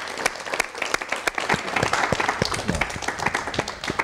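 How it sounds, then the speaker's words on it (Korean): Studio audience at a Korean television talk show clapping loudly with dense, crisp hand claps, close and continuous without talk over it. "박수로 맞이해 주시면 대단히 고맙겠습니다"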